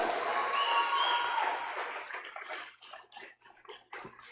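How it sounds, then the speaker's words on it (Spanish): Church congregation applauding during a Spanish-language worship service, a dense wash of clapping with tonal voices or cheers at first, thinning into scattered, separate claps that fade toward the end. "Dale un aplauso al Señor, hermano."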